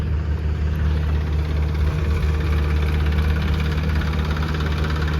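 A farm tractor engine idles with a steady low, throbbing drone at moderate distance on a salt farm, no voices.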